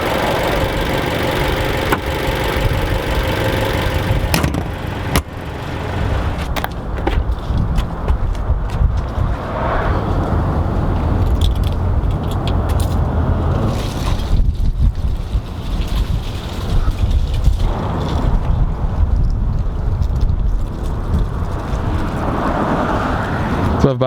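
A 2014 Dodge Dart SXT Blacktop's 2.4-liter Tigershark MultiAir inline-four runs at a steady idle, a continuous low rumble with ticking texture that stays fairly constant, with occasional clicks and bumps and some faint talking nearby.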